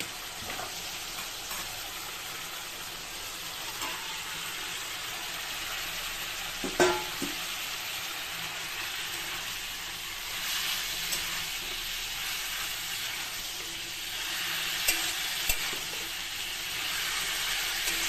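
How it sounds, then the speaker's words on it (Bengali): Boiled potato and squeezed, boiled banana flower fry in a pan with a steady, moderately quiet sizzle and hiss. A few faint utensil clinks and stirring sounds occur, with no talking. "আমার এখন আলু সেদ্ধ ছিল, সেটাই দিয়ে দিলাম। এবারটা মোচাটা দিয়ে দেবো।"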